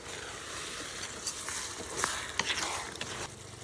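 Pure coconut milk from three coconuts simmering with fish for nilatik, a faint steady sizzle and bubbling with a few soft scrapes of a spoon stirring, quiet and close.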